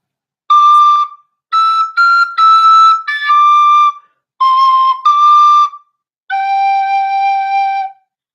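Melodic phrase on a small wind instrument with a thumb hole, played as a string of clear, pure whistle-like notes in short separated groups, ending on one long held low note. The playing is close, alone and without speech.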